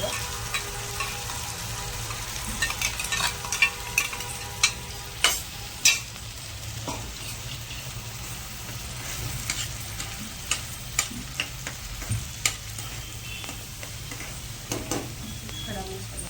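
Mashed onion gravy fries in oil in a pan for a paneer curry, sizzling steadily while a spoon stirs and scrapes, with several sharp metallic taps against the pan.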